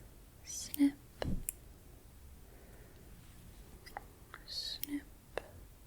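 Scissors are wiggled and snipped close to the microphone without cutting anything, making a few sparse, crisp metallic clicks. Soft whispering runs between them.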